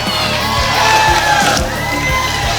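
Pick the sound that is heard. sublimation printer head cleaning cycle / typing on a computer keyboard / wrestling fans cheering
wrestling fans cheering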